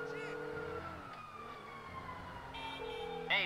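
Police car siren in the video game GTA Online, a wailing tone sweeping down and back up over a low engine drone, fairly loud and sustained with a faint voice briefly underneath.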